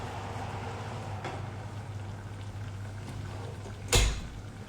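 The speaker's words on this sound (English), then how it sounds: "It's sizzling. Can you hear that?" Carrot tzimmes, just pulled from the oven after roasting with the foil removed, gives off a faint, steady sizzle and crackle under a low hum, with one sharp clunk near the end.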